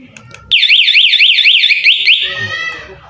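A loud electronic motorcycle alarm siren on a 2022 Honda Scoopy warbles rapidly up and down for about two seconds, then cuts off, with faint talk before and after.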